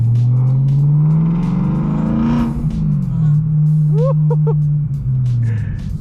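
BMW M3 E92 with a loud aftermarket exhaust, a steady low engine drone while driving that swells as it revs, with someone talking over it throughout.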